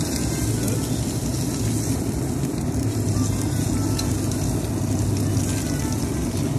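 Steady loud sizzle of dry-aged steaks searing on a grill, a continuous crackling hiss close up with no talking.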